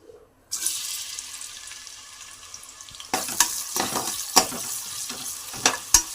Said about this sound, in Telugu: నూనె బాగా కాగిన తర్వాత సన్నగా తరిగిన రెండు చిన్న ఎర్రగడ్డలని ఇందులో వేసుకుందాం